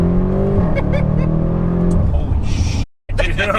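A tuned Audi RS6 Avant wagon accelerates hard, its engine rising in pitch as it pulls, then a sharp gear change and continued loud revving up close, with voices mixed in.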